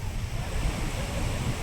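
Steady, dense rush of falling water fills the scene, roaring continuously with a broad, noisy texture and no clear voices.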